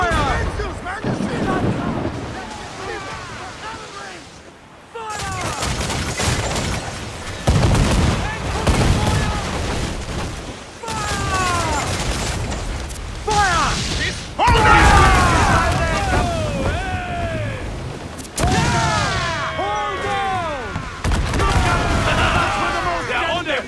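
Ship cannons firing in Assassin's Creed 4: Black Flag, heavy booming blasts in rapid clusters with crackling debris and whistling sweeps, loud and chaotic, mixed with shouted voices.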